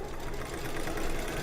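An embroidery machine stitching out a placement line for an in-the-hoop cat and moon bookmark, giving a steady, dense mechanical whir that runs continuously at close range with no talking.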